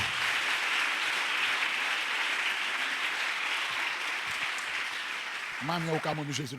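A church congregation applauding in praise during a worship service, a steady dense wash of clapping that fills the space, with a voice briefly rising over it near the end.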